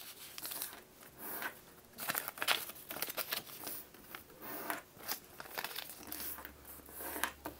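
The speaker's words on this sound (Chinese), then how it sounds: "变成4×4的16个小方格，上下对折，上下两条边向中间对折，旋转90度，同样的折法。" Paper being folded along creases into a 4×4 grid, giving repeated soft crinkling and brushing bursts at an irregular pace, close and fairly quiet, with no speech.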